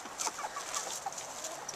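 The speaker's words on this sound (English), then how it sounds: "There's the rooster. Let's stay away from the rooster." Chickens cluck in a backyard coop, a flock that includes a rooster, speckled Sussex and Americana hens. Overlapping short clucks come close and steady throughout, with no talking.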